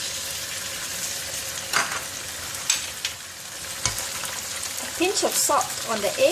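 An egg fries in half a tablespoon of oil with a steady sizzle while a utensil stirs and scrapes it around the pan, with several sharper clinks and louder stirring bursts toward the end, and a voice speaks briefly over the cooking.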